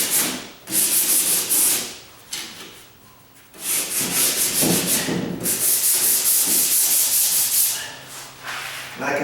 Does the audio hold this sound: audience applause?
no